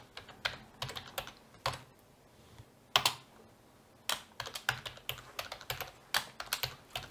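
A Wi-Fi network name and password are entered on a computer keyboard in a close run of irregular key clicks, with short pauses and a few louder strokes, and no voices.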